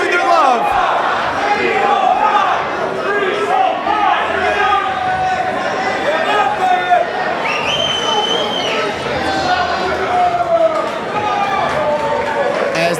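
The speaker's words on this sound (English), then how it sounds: "you can hear right here, the hometown crowd showing their love" A hometown crowd at a South Florida independent wrestling show fills the hall with loud, continuous cheering, shouting and chatter throughout, with whistle-like yells rising above the roar.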